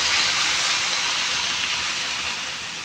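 Loud steady hiss and bubbling of vegetables simmering in coconut milk with crab in a pot, continuous and close with no talk.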